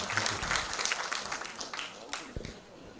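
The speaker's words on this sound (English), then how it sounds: "I think you can give yourself a round of applause for that" An audience at a Rotary gathering gives a round of applause, a dense, steady wash of many hands clapping at moderate distance, tapering toward the end, with voices mixed in.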